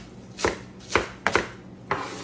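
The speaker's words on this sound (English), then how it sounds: "You can cut more greens up like this way." Collard greens chopped with a knife on a chopping board, four crisp close-up thuds in an uneven rhythm, loud and alone without talk.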